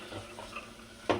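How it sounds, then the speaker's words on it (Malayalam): Chickpeas being stirred in a pan: soft scraping and faint sizzling, ending in one louder clattering scrape of a spoon against the metal. "നല്ലപോലെ ഇളക്കി കൊടുക്കാം."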